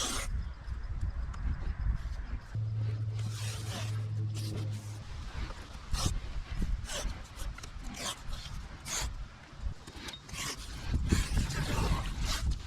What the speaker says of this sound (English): I'll start taping them off.